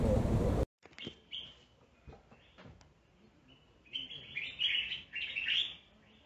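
Birds call and chirp outdoors in a Gambian town: bright, fairly close tweets and trills come in scattered bursts, growing busier toward the end after a short loud burst at the start.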